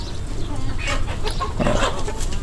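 Native chickens cluck steadily in a busy, close farmyard, several birds overlapping in a continuous murmur of soft clucks.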